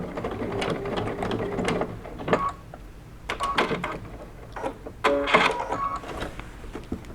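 Sewing machine back stitching a bucket hat in short bursts, with pauses between runs of rapid mechanical stitching, close and moderately loud.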